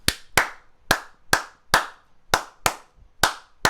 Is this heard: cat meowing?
no